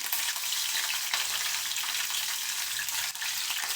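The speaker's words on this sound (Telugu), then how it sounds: "సుయ్ సుయ్ సుయ్ అంటుంది అనమాట పచ్చిమిర్చి" Green chillies frying in hot oil for tomato rice, a loud, close, continuous crackling sizzle with no talking.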